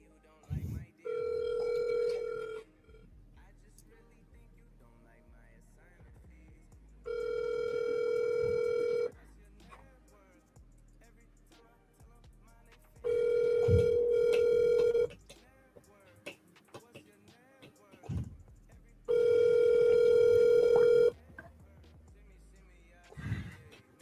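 An outgoing phone call rings back through a speaker, four long steady tone bursts spaced several seconds apart, with a person talking faintly in the gaps.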